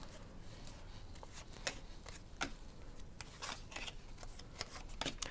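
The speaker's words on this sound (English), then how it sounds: "my shuffling and putting out cards is going to be a little oof" A deck of tarot cards is shuffled by hand, producing quiet, close, irregular snaps and riffling flicks over a soft background hiss, with no talk.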